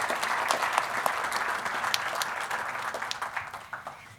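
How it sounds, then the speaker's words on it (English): Guests at a 25th anniversary gala applaud, a dense clatter of many hands with a few sharp claps standing out, loud at first and then gradually thinning and fading toward the end. "I think that deserves a round of applause"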